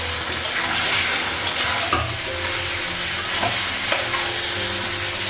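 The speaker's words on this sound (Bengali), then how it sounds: "মাংসটা খুব ভেজে নিব তারপর মশলাগুলো লাগাবো" Meat frying in a pan: a steady, close sizzle throughout with a few scraping stirs, no voices.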